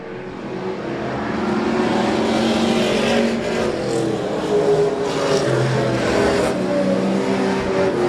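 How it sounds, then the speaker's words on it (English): Race cars circle Claremont's track in a 10-lap heat race, a loud, steady engine roar swelling and fading as cars pass, with occasional tire noise and no pauses. "This is a 10-lap heat race here at Claremont to set us up for a feature race a little bit later on."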